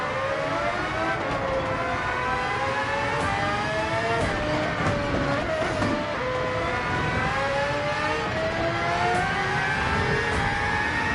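A race car in a racing video game drives at high revs among other cars, its engine whining steadily and its pitch rising and falling with gear changes, loud and continuous with no talking.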